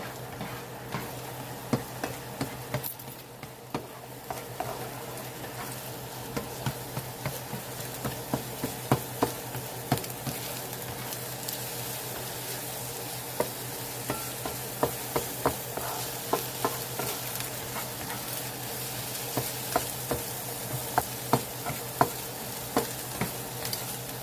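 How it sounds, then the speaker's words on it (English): Eggs scrambled whole in a pan sizzle quietly while a utensil taps and scrapes against the pan in frequent irregular clicks, close but faint, with no talking. "you can just scramble your eggs whole"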